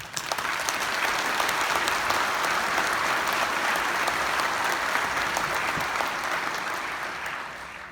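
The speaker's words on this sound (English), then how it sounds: "I'll give them a round of applause" Applause from a conference audience thanking a panel of presenters at a Birmingham I-59/20 highway project event, a steady dense clapping that holds level for several seconds and then tapers slightly toward the end.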